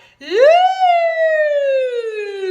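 A voice imitates a siren, sliding up in pitch then gliding slowly downward in one long sustained tone, close and clear.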